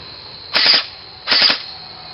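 A Tokyo Marui airsoft gun fitted with a tracer unit fires two short full-auto bursts, each a rapid buzzing rattle under a second long, loud and close with a brief pause between them.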